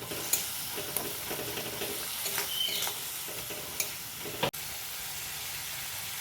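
Spices frying with a splash of water in a pan while being stirred for ghugni, a steady hiss and sizzle broken by repeated spoon scrapes and clicks, close and fairly quiet, with no talking.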